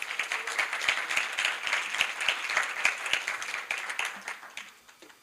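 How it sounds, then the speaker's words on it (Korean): A university event audience applauds to welcome a speaker, a moderately distant, fairly quiet patter of many hands with distinct individual claps, tapering off at the end. "권재우 대표를 박수로 맞아주시기 바랍니다."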